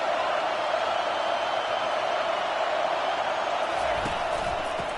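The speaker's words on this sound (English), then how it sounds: "This crowd going to try to make life miserable for these guys." Crowd roar from a college football stadium crowd during an Alabama game, a steady loud wash of noise with no pauses, cheering rising in places across the whole stretch.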